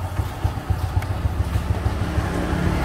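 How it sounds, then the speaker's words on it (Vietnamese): A SYM Power motorcycle engine idles nearby with a steady, low, rhythmic putter that stays even throughout and has no talking over it. "cái máy nổ rồi anh em thấy không"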